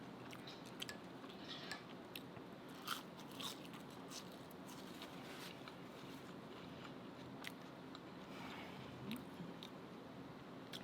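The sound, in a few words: biting and crunching crispy food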